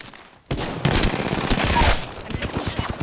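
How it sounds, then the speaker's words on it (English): A sudden burst of video game gunfire cuts in after a short quiet start, then rattles on as sustained automatic fire and sharp single shots, loud and close. "I'm taking shots"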